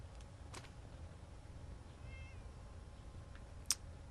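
A cat meows once, faint and fairly distant, over a low steady hum in a gameplay setting, followed a little later by a sharp short click; no one speaks.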